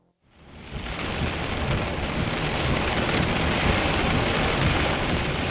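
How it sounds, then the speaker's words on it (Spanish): A violent thunderstorm rises from near silence into a loud, continuous roar of heavy rain with rumbling thunder, unbroken and dense throughout, with no talk. "La violenta tormenta que puso fin a todas las tormentas."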